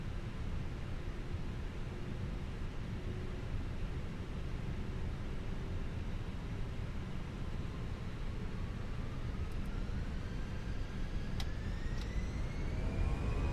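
An Airbus A319 takes off in Microsoft Flight Simulator 2020, with a dense, steady engine and rushing roar throughout and a faint tone that climbs in pitch as the jet accelerates, with no speech.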